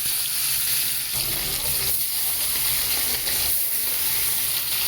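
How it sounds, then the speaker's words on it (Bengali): Small mourala fish fry in hot oil over a gas flame turned low, a loud, continuous close sizzle and crackle with no talking. "এইবার আমি মাছগুলোকে একে একে সব তেলের মধ্যে ছেড়ে"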